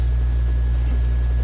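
Military helicopter in the video game Dead Rising, a steady low rotor drone and hum holding constant throughout, fairly loud and without talk.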